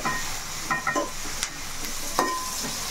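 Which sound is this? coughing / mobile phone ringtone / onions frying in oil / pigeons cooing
onions frying in oil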